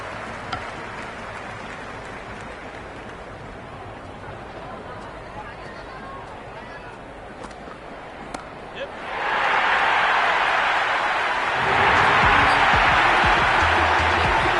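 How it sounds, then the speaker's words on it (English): Cricket crowd in the stands at an IPL match between GT and RCB, a steady murmur of chatter that swells into a louder, sustained roar partway through, with a faint commentator's voice talking over it. "It's the most enthusiastic crowd you could ever see right now. There's a buzz, a real buzz coming from the stands."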